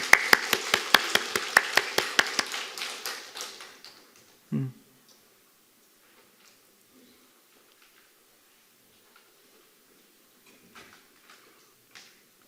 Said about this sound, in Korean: 우리 한번 크게 박수할까요? 박수하겠습니다.